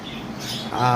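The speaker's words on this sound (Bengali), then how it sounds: "তো আজকে মূলত ভিডিওটা শুরু করব আমাদের কোকাটেল পাখি দিয়ে" Cockatiels squawk close by. A continuous harsh, buzzy call runs through the whole second and rises into a louder, shriller squawk near the end.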